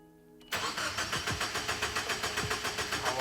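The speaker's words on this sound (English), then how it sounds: "you're gonna start the car 5 times" A 2002 Subaru WRX bugeye with a newly installed turbo, downpipe and intake cranks and fires up, settling into a loud, close, rhythmically pulsing idle with no talk over it.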